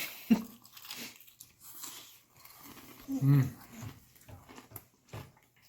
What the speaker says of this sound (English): I'll take another bite so you can get a better look.